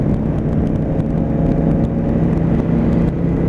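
A loud car drives just ahead on the road, its steady engine rumble blending with continuous wind and road noise from a following 2020 Honda Africa Twin motorcycle.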